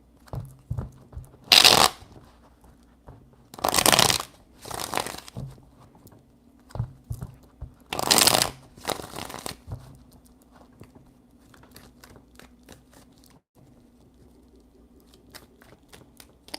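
Tarot cards being shuffled close up, three main bursts of riffling and flapping with a few softer taps and shuffles between, then quiet handling near the end.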